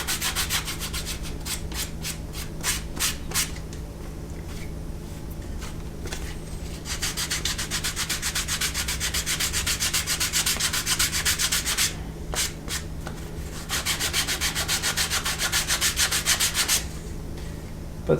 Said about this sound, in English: But sandpaper saves the day.